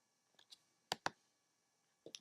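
A computer mouse gives a few quiet, separate clicks on a web page button. The clicks are sharp and close, two of them slightly louder, with near silence between.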